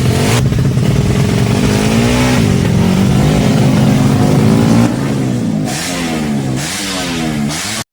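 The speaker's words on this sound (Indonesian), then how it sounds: "Ini adalah motor yang akan digunakan untuk balap hari ini" A racing motorcycle prepared for the day's race revs its engine steadily and loudly, with a held high drone that dips and rises in several throttle blips near the end, alone without talk.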